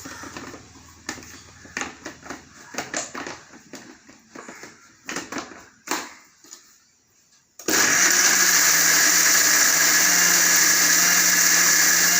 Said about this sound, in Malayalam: ഇനി നമുക്ക് മിക്സിയുടെ ജാറിലേക്കിട്ട് അടിച്ചെടുക്കാം